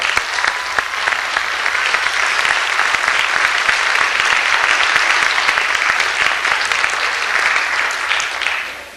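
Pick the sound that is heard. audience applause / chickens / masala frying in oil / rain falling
audience applause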